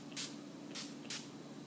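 NYX Dewy Finish Long Lasting Setting Spray is misted in three short, close hissing bursts with brief pauses between them, heard alone in a quiet room.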